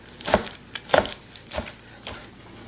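A knife chops food on a cutting board while cooking, four crisp knocks at uneven spacing, close and moderately loud with no talk.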